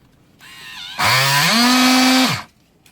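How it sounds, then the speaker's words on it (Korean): A battery-powered strapping machine hums, then a loud buzzing friction whine rises in pitch and holds for about a second and a half as its blade rubs two straps together to melt-seal them, before cutting off abruptly. "2번 실링 버튼 누르면 요 노란색 바통하고 커터가 내려와서 비비면서 두, 재질 두 개를 녹여서 붙여요"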